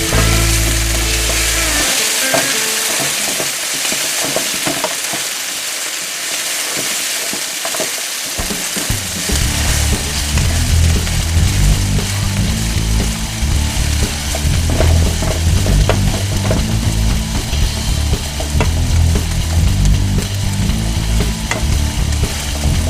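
Home fries sizzling steadily in a pan on the stove while a utensil scrapes and stirs them, the frying hiss continuous and loud, with clattering strokes from the stirring mixed through it.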